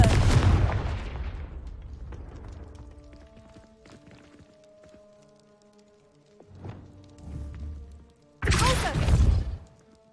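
Confringo fire-blast spell cast in Hogwarts Legacy, heard as a loud explosive burst at the start that fades into a ringing tail, then a second sharp blast near the end.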